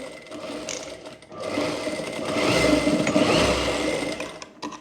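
A sewing machine stitches a seam on a folded boat-neck princess-cut blouse, its motor whirring in a steady run that swells louder through the middle and then eases off, with no speech.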